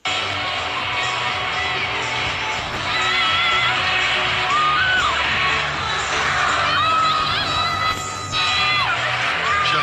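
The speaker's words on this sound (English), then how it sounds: "Shah-Afridi's got some fans in the crowd. They're ecstatic that he's picked up Finn Allen in the first over." A cricket crowd at a Pakistan versus New Zealand T20 match roars and cheers continuously for a wicket, with whoops and shouts rising over dense, sustained stadium noise.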